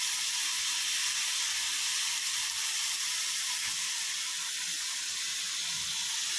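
Steady bright sizzling hiss from food sautéing in a hot pan after water is added, continuous and even throughout, with no voices.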